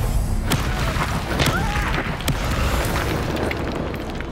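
A fire spell explosion in the video game Hogwarts Legacy, a loud booming burst with sharp crackling hits that sits over a dense, busy wash of game sound for a few seconds.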